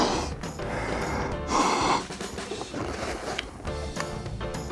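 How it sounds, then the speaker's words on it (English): Quick sniffs at a new Kamen Rider toy belt, a few short nasal snorts close to the microphone amid plastic packaging rustle, with one longer breathy inhale in the middle. "we need to give it a proper sniff"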